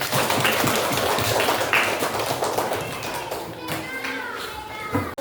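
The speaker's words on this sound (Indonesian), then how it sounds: "Kasih tepuk tangan untuk baik" Children in a primary school science class clap together, a quick patter of light claps and taps that stays fairly near and even, with some voices mixed in.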